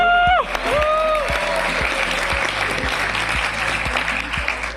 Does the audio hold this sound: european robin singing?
no